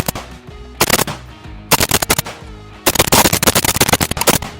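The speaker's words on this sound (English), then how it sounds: "The first shots with the MD63." A Romanian MD63 AK rifle fires 7.62x39 rounds outdoors in loud, sharp bursts: a short rapid string, a pause, another burst, then a longer rattling volley.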